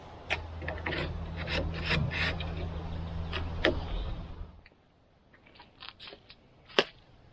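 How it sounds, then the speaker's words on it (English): A handsaw rasps back and forth, cutting relief kerfs into a wooden strip so it bends around the curve of a sailboat dodger. Close, steady scraping strokes run for about four seconds, then stop, leaving only faint handling knocks. "I'm just putting these little cuts in this piece of wood so that it bends easier to get around the bit of the curve"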